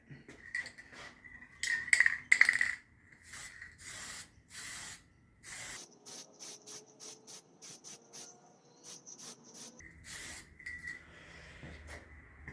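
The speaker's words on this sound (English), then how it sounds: "Spray paint." Repeated short bursts of an aerosol spray can hissing, close up, with a rattle of the can in between sprays.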